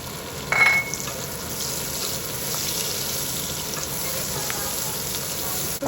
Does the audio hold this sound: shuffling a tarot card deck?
no